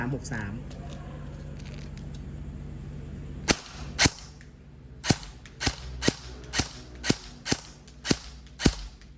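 An E&C 857 airsoft gun fitted with a muzzle device, firing at a target about 40 meters away, lets off about eleven sharp, snappy shots. They start spaced apart and then come in a quicker even rhythm, after brief faint talk at the start.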